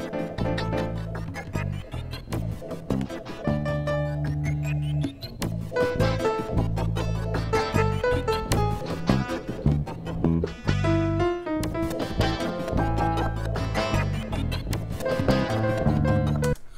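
Two layered piano parts played from MIDI tracks through a sampler on a Korg Kronos X, chords and melody running continuously at a steady moderate level with no talking.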